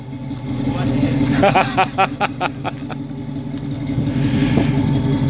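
A Holden Monaro HT with a slight cam rumbles at idle in a lumpy, uneven rhythm, and a short burst of revving sits in the middle. People talk over it close by.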